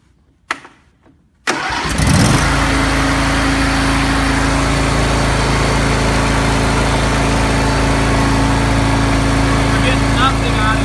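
A warmed-up John Deere L100 lawn tractor engine cranks and fires after a short silence, then settles into a loud, steady high-throttle drone close by.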